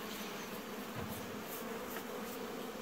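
Honeybees at a hive give a steady, dense buzzing that fills the whole stretch at a low, even level, with no voices.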